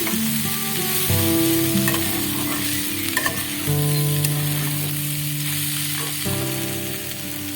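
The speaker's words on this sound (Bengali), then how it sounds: "তো দেখো ভাজা ভাজা হয়ে গেছে" Mustard and chilli paste fries in a pan with a steady, dense sizzle and occasional stirring scrapes, close and continuous over a constant hum, with no talking.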